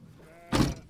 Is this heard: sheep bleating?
yes